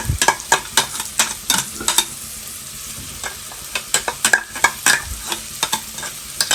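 Tomato sauce and garlic fry with shrimp in a pan, sizzling steadily under sharp, frequent clicks and scrapes of a utensil stirring the mixture, close and fairly loud, with no voices.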